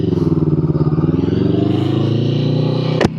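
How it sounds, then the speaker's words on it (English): A sport touring motorcycle idles loudly nearby with a throbbing, pulsing engine note, then rumbles steadily as it pulls away, ending in a sharp clack. "This is a sport touring. All right, Trey. I'm going to go cruise around town."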